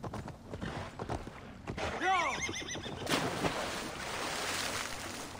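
A horse whinnies loudly in Assassin's Creed Valhalla, a rising and falling neigh in the middle, amid hoofbeats and splashing water ambience.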